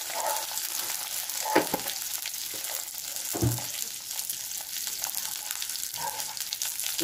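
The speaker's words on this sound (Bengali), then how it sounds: "এটা হালকা করে একটু ভেজে নেব" Food frying in a pan while making a fish curry crackles with a steady close sizzle, with occasional stirring scrapes and spoon knocks.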